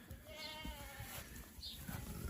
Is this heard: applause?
no